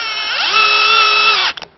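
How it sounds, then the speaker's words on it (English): Cordless drill driving a tool to fit a Mighton vent lock on a double hung sash window: a loud, close motor whine rising in pitch, holding steady, then cutting off with a couple of brief clicks. "this is the insertion tool, and this one goes in a cordless drill."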